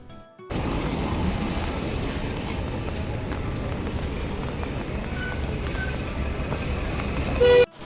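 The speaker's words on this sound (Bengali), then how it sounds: "আর এই যে ওইদিকে ট্রেনও আসছে" A metro train pulls into a station platform, a steady loud rumble of wheels and motor filling the whole stretch, with a short high whistle or horn near the end.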